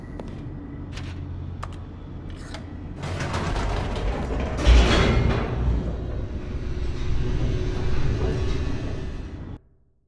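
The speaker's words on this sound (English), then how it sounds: "The elevator raced downward, plummeting towards an unknown fate." Elevator in The Stanley Parable descending rapidly, a steady mechanical rumble with ratcheting clicks and creaks that builds to a loud rushing surge midway and then cuts off abruptly near the end.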